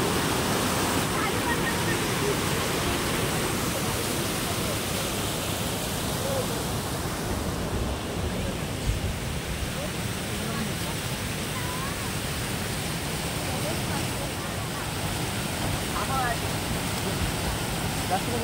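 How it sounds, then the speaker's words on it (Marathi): Water rushes without pause over the Kondagaon Dam waterfall, a loud, dense, unbroken roar that stays even throughout, with no other sound rising above it. "पाणी आणि खळाळतं पाणी"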